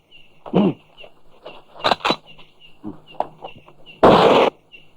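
Gunfire in a 1975 Indonesian action film, 'Mat Pelor': a few sharp bursts spaced apart, the last one a long loud blast, with quieter scattered sounds between.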